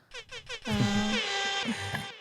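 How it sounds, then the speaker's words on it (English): Three short bursts of a horn blare in quick succession, then a long, loud, sustained honk that wavers slightly before fading. "Should we give him an air horn?"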